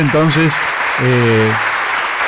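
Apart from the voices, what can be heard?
applause for the radio operators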